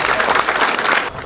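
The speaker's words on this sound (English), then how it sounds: "Let's give her a round of applause" Zoo crowd in Brisbane, Australia applauding after a tiger's show, a steady wash of many hands clapping at close range that drops off abruptly near the end.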